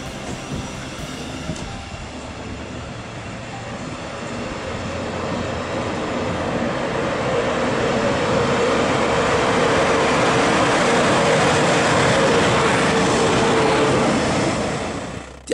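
A train rolls through Ulm main station, a loud steady broadband rumble with rail noise that builds over the first seconds and holds, then cuts off at the end.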